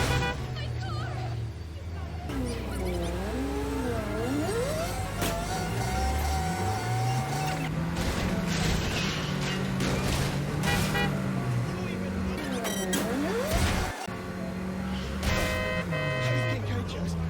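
A supercar engine in the video game Neverness to Everness revs and drones continuously with rising and falling pitch sweeps, loud and close, mixed with game music, a horn-like tone and chattering voices in the background.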